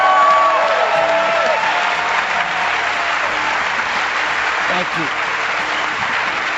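An audience breaks into loud, sustained applause and cheering as a member of Coldplay is welcomed on stage at an Apple event, with a voice briefly speaking over the clapping.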